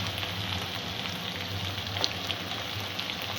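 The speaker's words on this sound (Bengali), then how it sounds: "সবজিগুলো ভালো করে ভাজা হয়ে যায়। আলুটা 2-3 মিনিট ভাজা হয়ে গেছে।" Potato and snake gourd fry in a pan with a steady, close, even sizzle and a few faint stirring clicks, with no voices.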